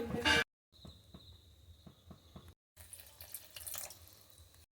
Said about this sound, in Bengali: অল্প করে জল দিয়ে ডোটা মাখতে হবে।